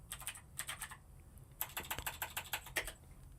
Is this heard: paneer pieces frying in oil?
no